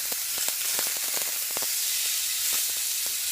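Steady loud hiss and sizzle of a beef steak searing in a hot pan after being flipped to its other side, with scattered crackles and pops throughout and no voices.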